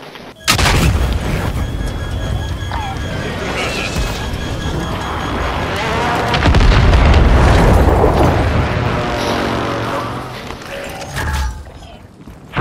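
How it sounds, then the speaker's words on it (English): Friendly mortar strike explosions rumble through a Call of Duty match, heavy booms and crashes rolling almost continuously and loud, swelling midway and easing off before a final burst. "Friendly mortar strike inbound."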